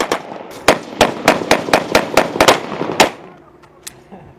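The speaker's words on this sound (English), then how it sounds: "They sprayed wild bursts of machine gun fire at them." Bursts of machine gun fire in a clash between rebels and government soldiers in Mali, a rapid series of about a dozen sharp loud cracks in quick succession, then a single later shot, close and with no talk.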